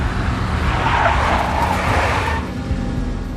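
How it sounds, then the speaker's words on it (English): A big black Mercedes in the Max Payne video game skids with a loud, sustained tire screech over engine roar for about two and a half seconds, then fades to a low rumble. "A big black Mercedes."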